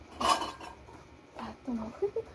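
A plate holding egg, chicken and rice is set down with a few light clinks and clatters of dishware at close range, with quiet background noise between the knocks.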